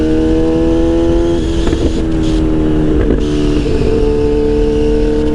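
A Kawasaki Z800 superbike engine runs steadily with strong harmonic tone, swelling in a few short revs midway, close and loud, no talk.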